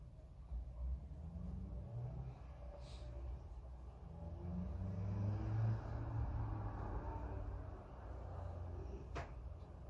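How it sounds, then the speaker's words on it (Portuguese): Cars pass on a nearby highway, a continuous low rumble that swells and fades as vehicles go by, heard from indoors, with a couple of faint clicks and no talk. "mas eu moro ao lado de uma rodovia, então passam muitos carros aqui."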